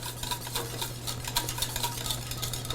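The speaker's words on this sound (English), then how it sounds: "I'm going to add about 1/4 stick of butter, and whisk that all together" A whisk scrapes rapidly around a pot, blending butter, salt and pepper into polenta, with quick rhythmic metallic clicks over a faint steady hum, close and alone.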